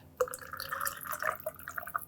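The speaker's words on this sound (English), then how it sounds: "this is probably thin enough that I can just pour this right in" Thin vinaigrette pours from a container into a squeeze bottle, giving a close, quiet gurgling trickle with small liquid splashes and drips that rise and fall over a couple of seconds.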